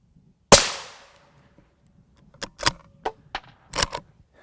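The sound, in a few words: rifle shot with M193 ammunition fired at body armor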